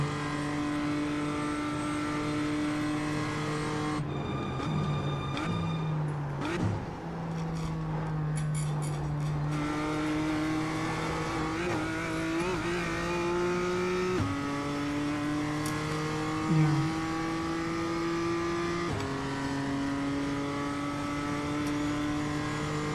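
A BMW M2 race car engine at Daytona in iRacing drones steadily and loudly. It rises through the gears with repeated shift drops and brief throttle blips, and tires squeal now and then.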